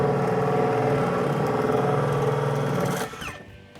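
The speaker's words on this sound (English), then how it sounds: "So I'm holding the pipes so Craig can measure them and drill the hole out for us." A power drill bores a hole through a wooden joist for plumbing pipes, its steady motor whine running for about three seconds before cutting out, up close and with no talk over it.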